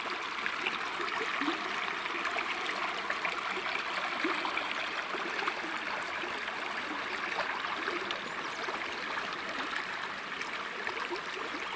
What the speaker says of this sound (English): Just take it all in, the sound of that water.